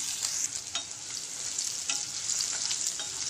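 Finely chopped green chillies and cumin seeds sizzling in about three big spoonfuls of hot oil in a pan, with a bright continuous hiss and a few scraping stirs of a spoon, close up and with no talking.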